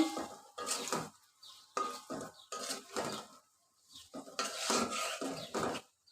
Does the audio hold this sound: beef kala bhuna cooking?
yes